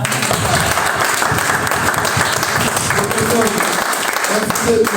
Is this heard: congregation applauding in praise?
yes